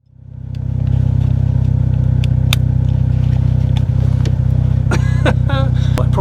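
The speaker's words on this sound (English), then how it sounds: "I want to have a go at a handbrake turn then" Mk3 Golf rally car engine runs loud and close through a handbrake turn, a steady low drone with rising revs and tyre or gravel scrabbles toward the end.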